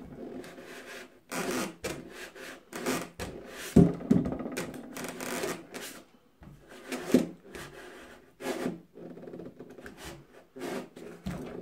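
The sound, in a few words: cutting a model train kit part with a hobby knife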